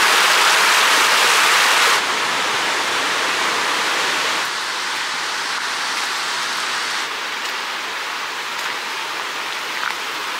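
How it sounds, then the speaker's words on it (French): An icy-cold mountain torrent in Kyrgyzstan rushes across a road, giving a loud, continuous broadband roar of flowing water that eases slightly over time. "de mettre les pieds dans l'eau fraîche des torrents du Kirghizistan"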